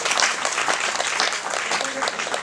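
Audience applause at a Slovenian studies congress round table, a dense burst of clapping from a room of people lasting a couple of seconds.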